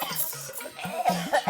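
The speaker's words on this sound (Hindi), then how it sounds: "इतनी ज्यादा खांसी कैसे हो गई?" Several sharp, close coughs from a person with a cold come in quick bursts, with a short pause between them, loud and alone with no talk over them.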